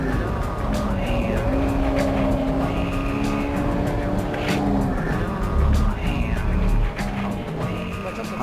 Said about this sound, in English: Man, this car is fast! I can go through the S corner at almost full throttle in third gear.